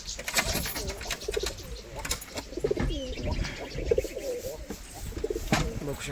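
Pigeons coo from an opened box, a run of soft, throaty, repeated coos close by, with someone talking over and between them.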